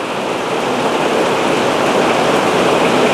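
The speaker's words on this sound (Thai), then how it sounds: "วันนี้ NC World พระราม2ฝนตกหนักแต่เช้าเลยนะครับ" Heavy early-morning rain pours down in a loud, dense, continuous hiss that stays steady throughout, with no voices.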